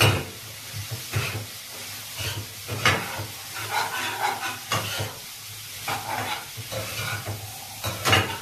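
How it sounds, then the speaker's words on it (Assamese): Boiled chickpeas and peas being stirred in a hot pan for ghugni, a gentle sizzle under repeated scraping spoon strokes and occasional clinks, close and uneven in rhythm. "ঢালি দি এনেকৈ মই লৰাম।"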